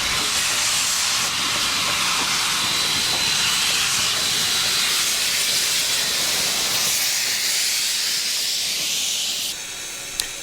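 CN 6060 Mountain Class steam locomotive on the Alberta Prairie Railway venting steam in a loud, steady hiss that holds for about nine seconds before dropping off sharply near the end.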